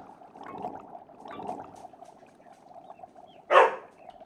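A dog barks in the Staxel farming video game, a single sharp yelp standing out near the end after a stretch of low background game ambience.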